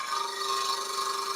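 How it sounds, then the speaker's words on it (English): Steady rubbing, chattering scrape of a woodturning chisel bevel bouncing against a wooden spindle spinning in a lathe, with a bright sustained tone over continuous rough friction, close and moderately loud. "This is what we call bevel bounce."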